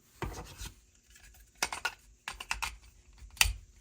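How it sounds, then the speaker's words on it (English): Plastic leg pieces on a TakaraTomy Jobraver DX Sky Braver toy click and rub into place, several clusters of small sharp clicks and scrapes separated by brief pauses, close and fairly quiet, no talking. "these leg pieces just kind of"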